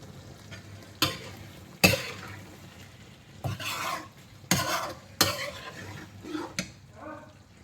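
Mutton liver masala fries in a pan while a spoon stirs and scrapes it, with a soft sizzle underneath and several sharp metallic knocks against the pan at irregular intervals, close by.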